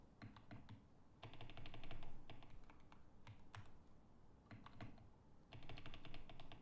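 Rapid bursts of computer keyboard typing with light clicky keystrokes come in clusters separated by brief pauses, faint and close against a quiet room background.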